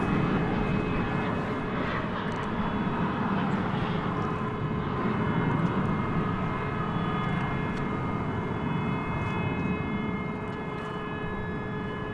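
A Boeing 787-9 Dreamliner on flight 192 to Istanbul at DFW airport at night, a loud, continuous jet engine roar with a steady whine, holding constant and easing slightly at the end.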